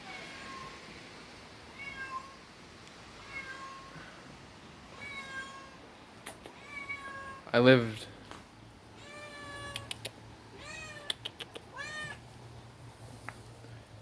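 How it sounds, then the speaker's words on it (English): A stray cat meows repeatedly outdoors, a series of short rising and falling cries spaced a second or two apart, with one louder, longer call midway; a person speaks briefly nearby. "Well, there's a kitty that showed up."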